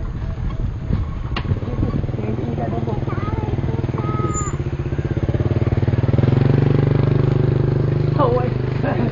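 A motorcycle engine runs steadily close by for the whole stretch, with a low chugging idle that grows a little louder toward the end while people talk nearby.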